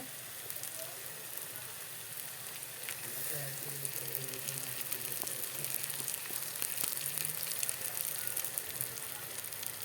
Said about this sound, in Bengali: দেখো মশলাগুলো ঢেলে দিয়েছি এখন মশলাটা কিছু কষি নি